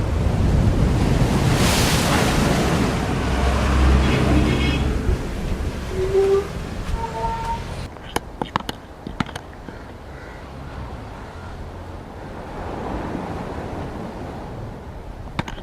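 Sea waves surging on the Kerala coast: a loud roaring wash of surf and wind for the first half, then a quieter, more distant rushing with a few sharp knocks and buffets.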